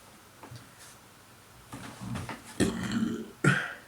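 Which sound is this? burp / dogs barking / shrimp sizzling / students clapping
burp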